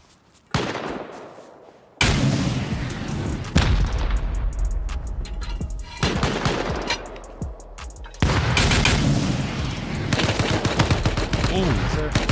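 Rockets fired at a turret-covered base in a combat video game, with several loud, sudden blasts and sustained roaring explosions in succession, dense and close.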